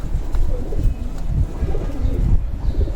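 Pigeons coo close by in low, soft, rolling calls that repeat steadily for a few seconds, with no voices over them.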